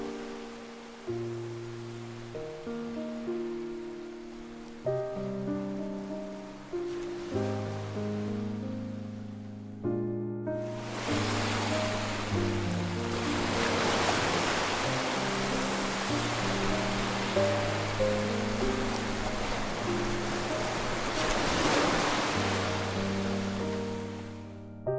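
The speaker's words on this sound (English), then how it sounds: "listened to the waves" Ocean waves wash steadily along the shore of Jeju Island, a broad continuous surf that swells louder in the second half beneath melodic music playing over it.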